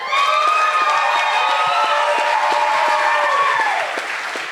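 A crowd at a youth talent exhibition cheers and applauds two young painters, a brother and sister, with loud, sustained clapping and whoops that fill the room and fade slightly at the end.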